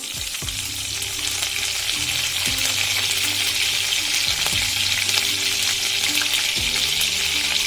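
Mustard seeds, cumin and chillies sizzle in hot oil for a sweet-sour colocasia leaf curry, a loud, close, constant crackling hiss with no voices.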